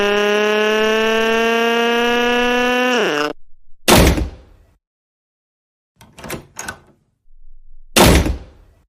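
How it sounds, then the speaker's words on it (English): A cartoon door slams shut with a loud thud, a burst of noise following a held tone; two more rough knocking bursts come later, then another loud slam near the end. "stop slamming the door."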